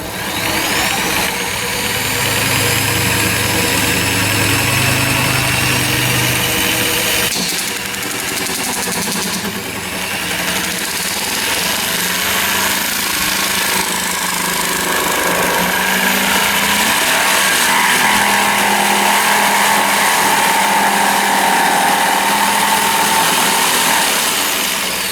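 An AGED 240 jig saw runs close and loud as it cuts through wood, with a sustained high motor whine and buzzing blade whose pitch shifts slightly as the speed is adjusted.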